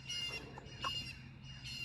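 American Bresse chickens squawk and cluck in a farmyard pen, a few short, fairly faint calls spaced over a soft background hum.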